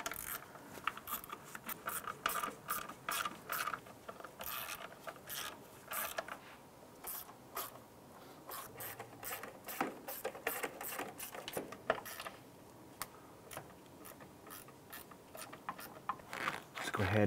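A ratchet works the captured bolts on a Jeep Wrangler JK engine during an oil filter housing and cooler job, giving rapid, uneven clicking and metallic ticks close by, with occasional faint talk.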